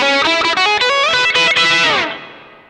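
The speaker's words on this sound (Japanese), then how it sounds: "リバーブはホールでいきましょうか。" A bright electric guitar, a Fender American Vintage '62 Custom Telecaster through a Zoom MS-50G hall reverb, plays a quick run of notes, then rings out into a long, smooth reverb tail that fades away.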